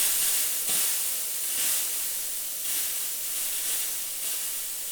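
The steam wand of a Gaggia Classic Pro espresso machine fitted with a Shades of Coffee PID controller is purged, letting out a powerful, steady, hissing rush of steam that carries on unbroken with slight swells and no talking.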